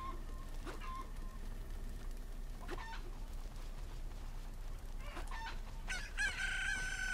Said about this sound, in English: What happens if you attack that chicken, though?